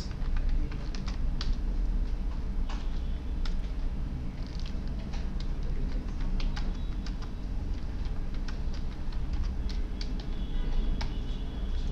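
Code is typed on a computer keyboard in a steady stream of close key clicks and taps over a low background hum, with no talk.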